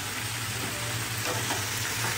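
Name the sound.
frying onion greens, potato, peas and cauliflower together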